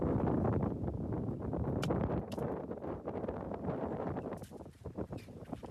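Wind gusting across an open farm field near a transformer, buffeting the microphone in a loud, continuous rough roar that eases slightly toward the end.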